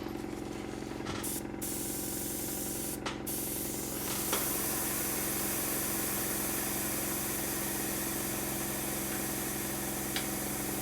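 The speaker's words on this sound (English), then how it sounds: "It's the compressor again. Sorry if it's very loud" An airbrush air compressor runs close by in a steady, loud drone with a constant hiss layered over it, and a couple of brief bursts of spray near the start.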